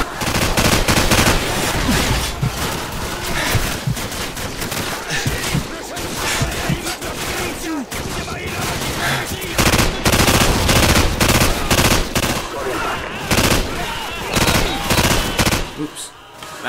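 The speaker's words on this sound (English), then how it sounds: "Just kind of shooting at the trees." Sustained automatic gunfire aimed at trees in Call of Duty 4: Modern Warfare on Xbox 360, loud dense bursts nearly nonstop with brief gaps, a voice talking faintly underneath.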